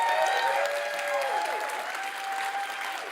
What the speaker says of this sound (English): Another round of applause for Albert.